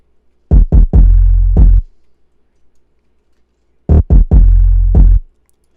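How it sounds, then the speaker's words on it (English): Vicinity, an 808 bass sample from the Hologram Volume 3 pack, played in FL Studio as two short phrases of booming sub-bass notes, each with a few quick hits and then a held tone, separated by a gap of silence. "Next, I added another 808 to complement that one."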